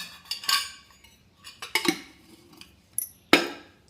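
A metal spoon clinks and taps against a steel pot and container while chili powder and homemade sambar powder are added, giving several separate bright clinks spaced across a few seconds, close and fairly loud.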